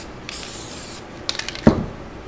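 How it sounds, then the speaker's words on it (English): Archival aerosol spray coating a dried alcohol ink piece: two long, close hissing bursts, the second broken into short puffs, ending with a small knock. "you can generously spray this archival spray on"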